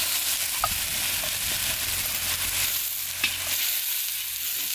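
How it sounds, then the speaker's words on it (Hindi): Spices fry in a pan, giving an even, moderately loud sizzle with a low rumble underneath. A couple of light clinks from stirring come through, and no voices are heard. "मसाले को अभी फ्राई करेंगे।"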